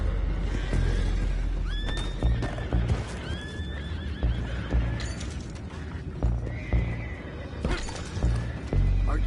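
Horses whinnying and neighing in the Western video game Red Dead Redemption, several rising and falling calls over clattering hoof clip-clops and crashing, splintering noises, with no talk.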